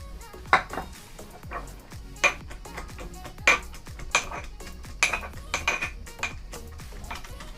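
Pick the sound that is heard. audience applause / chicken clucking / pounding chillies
pounding chillies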